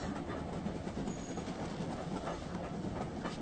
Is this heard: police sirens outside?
no